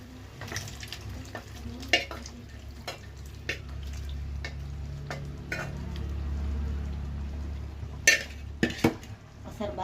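Boiled mutton pieces being mixed into sizzling masala in a pan, with a low steady fry under intermittent clinks and scrapes of a ladle against the pot, close and moderately quiet.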